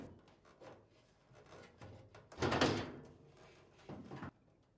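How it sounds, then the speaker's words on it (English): Samsung dryer front panel lifted up off its two retaining tabs, giving short plastic-and-metal scraping and rubbing sounds with a louder clunk midway and another brief scrape near the end, close by and without speech. "lift up on the panel to release it from these 2 retaining tabs"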